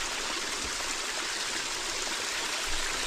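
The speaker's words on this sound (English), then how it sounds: "Check out this little river coming down off the mountain." A small mountain river runs down off the slope in a constant, even rush of water, close and steady with no breaks, and no voices over it.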